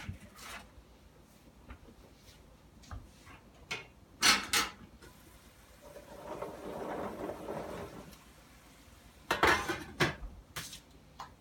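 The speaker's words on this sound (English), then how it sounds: "I'm going to go ahead and add the asparagus and the tomatoes" Asparagus and tomatoes go into a pan, heard as a few sharp clatters of cookware and utensils near the start and end, with a softer sizzle building in between, quiet and close.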